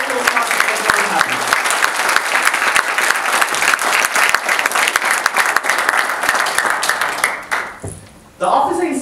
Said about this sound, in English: This really calls for a round of applause for all the past office bearers and all the Toastmasters that we have